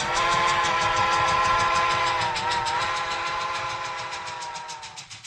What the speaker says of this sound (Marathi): रेलगाडी